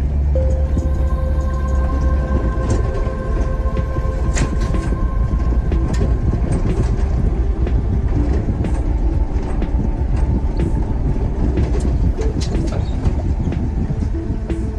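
A Holden HX panel van with a rusty exhaust runs steadily, a loud, unbroken low rumble with rattly mechanical texture that holds constant throughout, no speech over it.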